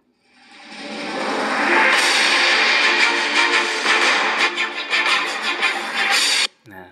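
A stock logo audio intro jingle from the PowerDirector editing app, a bright, dense burst of layered synth and shimmer that swells in, holds loud for about six seconds, then cuts off sharply with a brief trailing hit.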